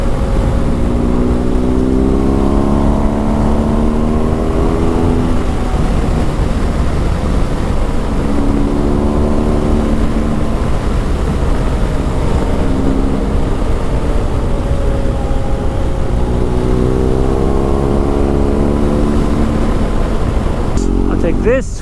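Wind roars through a helmet-mounted microphone as a BMW R1250GS Adventure rides at high speed. The engine note rises and falls through repeated gear changes under a constant loud rush of air.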